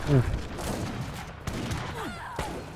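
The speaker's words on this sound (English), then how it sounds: "The bombard's gonna kill this in one shot." A bombard cannon fires in the battle game Age of Empires III: Definitive Edition, giving a few sharp, loud booms and crackling impacts that are spread out, under excited commentators' talk.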